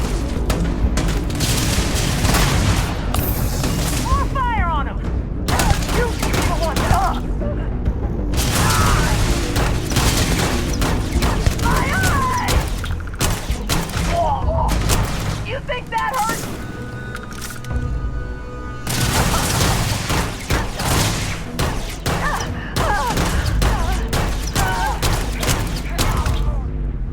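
Repeated bursts of gunfire in Starfield combat, loud and close, with heavy booming shots and mechanical clatter in clustered volleys, a brief lull partway through, and occasional voices over the fighting.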